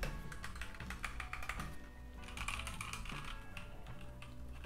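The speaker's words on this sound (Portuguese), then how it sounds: "Teclas mecânicas." Typing on a Keychron K2 v2 mechanical keyboard, built for Mac: quick, dense clacking keystrokes at a steady, fast pace, close up and continuous with no talking.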